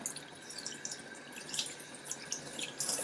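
Tap water runs steadily over tools being rinsed of LizardSkin ceramic insulation coating, with light splashing and dripping throughout, fairly quiet and close, no voices.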